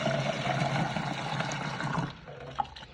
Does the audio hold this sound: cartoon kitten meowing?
no